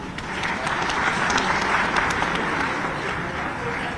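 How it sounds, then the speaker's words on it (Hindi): An audience applauds steadily to welcome guests onto the stage at a Govardhan Puja gathering attended by the chief minister, a dense, even wash of many hands clapping across the whole span. "आइए बहुत बहुत स्वागत तालियों से"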